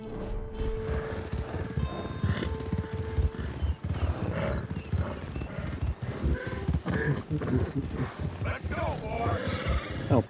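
A tired horse gallops in the Western game Red Dead Redemption 2, with rapid hoofbeats and heavy breathing, and a whinny rising near the end, all loud and close throughout.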